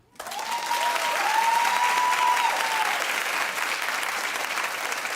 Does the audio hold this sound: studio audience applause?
yes